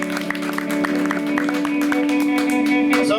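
An audience at a rock show claps steadily, a dense patter of hands over a sustained musical tone, fairly loud and close throughout.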